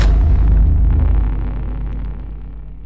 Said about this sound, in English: Shock waves are the ones responsible for sonic booms,